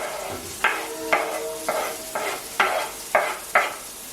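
Onions drop into hot oil in an Instant Pot and are stirred, bringing a series of about seven sharp scraping, sizzling bursts at a regular pace over a low frying hiss.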